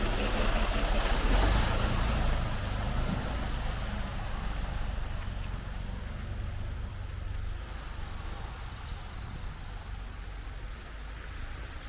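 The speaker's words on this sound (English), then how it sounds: "look at that truck, just made that turn" A truck turns on a snowy city street, its loud engine rumbling close by at first and then fading into steady traffic noise, with a brief hiss near the start.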